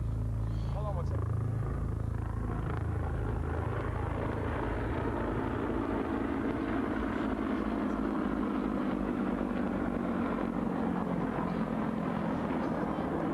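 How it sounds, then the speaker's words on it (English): Presidential helicopter flying overhead and descending near a youth soccer game, a steady loud rotor roar and engine rumble filling the air throughout while people talk over it. "There's the presidential helicopter coming down to congratulate the boys"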